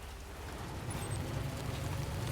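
Rain falling in the video game Death Stranding 2, a faint, even hiss of steady rainfall with a low background rumble, continuous and unbroken.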